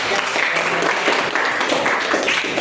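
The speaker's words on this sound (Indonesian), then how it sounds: "Tepuk tangan yang meriah ya." A classroom of students gives lively applause, a dense, continuous patter of clapping with some voices mixed in beneath it.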